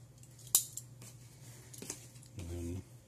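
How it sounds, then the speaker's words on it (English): A utility cutter scores cardboard along a ruler to make fold lines for a comic book mailer: one sharp click, a few light ticks, then a brief gritty scrape of the blade, all close and quiet. "along your line, and you just score it. You're not trying to cut it, you're just trying to score it."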